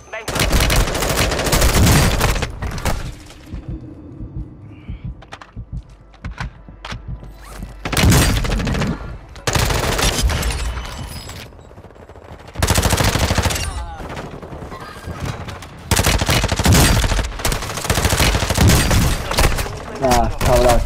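Rapid automatic gunfire in a shooter video game comes in loud repeated bursts separated by quieter gaps, with some thuds, while a player talks at times between the bursts.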